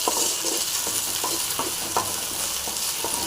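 Crab soup ingredients frying in a pan with salt, coriander and curry leaves, a loud continuous close sizzle with rhythmic stirring scrapes and clinks.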